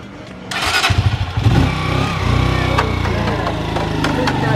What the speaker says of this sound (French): Moi, je vais faire un tour en moto